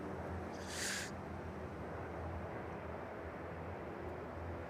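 An ATR turboprop aircraft rolls out from the airport stands in strong storm winds, giving a steady, distant low engine drone under heavy wind noise, with one brief hiss near the start.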